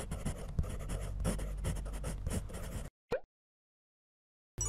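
A pen scratches and scribbles on paper while failing to write well, a dense rustling scratch for about three seconds, then a brief stroke and silence before scratching resumes.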